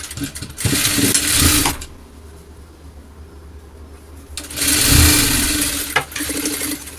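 Sewing machine running a double stitch along a fabric seam made from leftover cloth scraps, two loud close bursts of rapid mechanical whirring separated by a quiet pause, the second ending in a few clicks.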